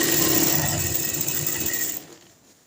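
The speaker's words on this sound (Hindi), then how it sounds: "इस तरह हमने साथ साथ फोल्ड करते जाना है और सिलाई लगा देनी है।" Sewing machine running steadily as it stitches the folded hem of palazzo pants, a close, continuous mechanical whir that stops abruptly near the end.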